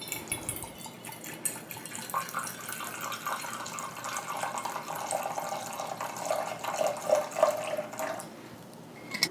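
Rye whiskey (Maker's Mark) pours into a glass for a cocktail, a close, continuous liquid trickle lasting several seconds before tapering off.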